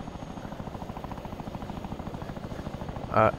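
Chinook helicopter rotors spooled up in Arma 3, a steady rapid thudding beat with a constant engine whine running throughout, followed by a brief louder burst near the end.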